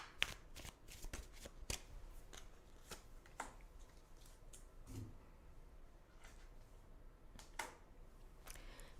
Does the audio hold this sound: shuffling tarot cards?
yes